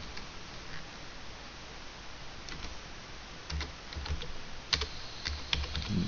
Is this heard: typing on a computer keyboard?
yes